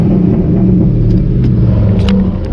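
A straight-piped 2006 Ford GT roars steadily inside a tunnel, very loud and close, a dense continuous rumble.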